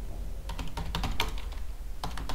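Rapid clacking of keys on a computer keyboard, close and steady with quick irregular bursts of keystrokes and brief gaps.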